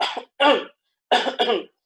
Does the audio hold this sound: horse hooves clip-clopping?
no